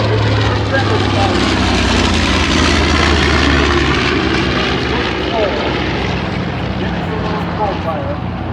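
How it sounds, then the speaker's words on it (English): A B-25 bomber flies past at an airshow with a pyrotechnic display, its loud, steady propeller-engine roar filling the whole stretch, with people talking underneath. "B-25 is coming in with a pyro path from Tora Pyro."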